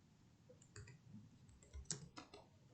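Soft keystrokes tap at irregular intervals on a computer keyboard while someone types text labels, faint and close over a low background hum, with no voices.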